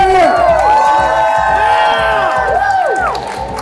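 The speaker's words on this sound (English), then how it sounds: "Give us a cheer!" A crowd cheers and whoops loudly and continuously at a store grand opening in a Florida shopping mall, with voices shouting over a sustained roar and a slight drop toward the end.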